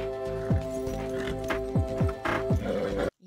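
Horse being ridden, with several close clip-clop hoof strikes spaced irregularly over a steady tonal hum, ending abruptly.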